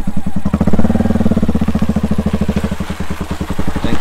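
A motorcycle engine running close by with a little throttle applied, its steady rapid pulsing rising slightly before settling back into an even, chugging idle.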